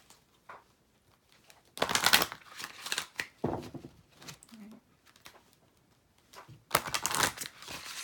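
Tarot cards being shuffled during a Valentine's Day card reading, giving several crisp riffling bursts separated by quieter gaps, with a voice speaking softly between them.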